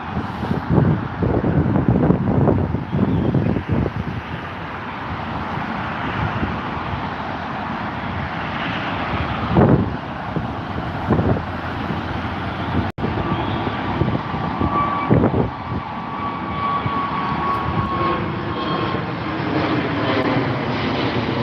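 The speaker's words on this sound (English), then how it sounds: "There goes Aer Lingus, folks." An Aer Lingus airliner passes at Heathrow, a broad steady engine roar rising and falling over about twenty seconds, with wind buffeting the microphone throughout.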